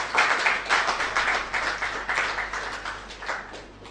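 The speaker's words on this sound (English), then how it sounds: "I would like us all to give CODA a round of applause" A small room of people at a ministerial press briefing breaks into applause, with separate clapping hands audible in a quick, uneven rhythm that slowly fades over a few seconds.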